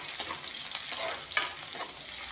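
Onions fry in a pan for a fish curry, a soft, continuous sizzle with light stirring clicks, fairly quiet and without talk.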